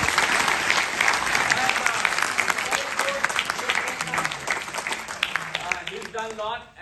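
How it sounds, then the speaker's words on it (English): A cinema audience at a film screening in a movie theater claps loudly and continuously, with distinct nearby hand claps over the crowd and voices talking underneath as the clapping fades at the end. "clap for Vivekji."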